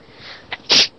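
A single sharp sneeze bursts out near the end, loud and close, preceded by a brief snort-like breath in an otherwise quiet room.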